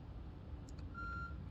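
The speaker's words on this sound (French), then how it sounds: "c'est une voiture qui fait des bips quand elle recule" In the video game Project Zomboid, a car's reversing alarm gives a faint, steady electronic beep over low background rumble, with a couple of short blips just before it.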